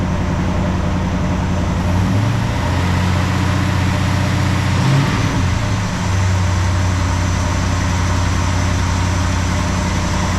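A 1969 Plymouth Fury III engine runs steadily at about 1280 RPM, a constant low idle-like drone that holds evenly throughout with no voices.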